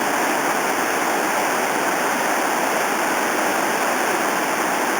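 Rushing whitewater in the Fraser River Canyon makes a loud, steady, broadband roar that holds without a break, with no voices.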